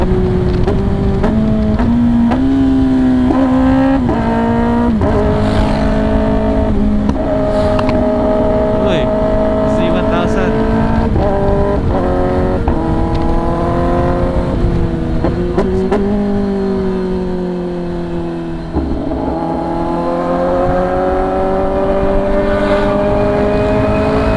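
A Kawasaki ZX10R motorcycle engine climbs hard through the revs with quick auto-blip upshifts, each gear change dropping the pitch before it rises again, loud and close throughout with a rider talking over it.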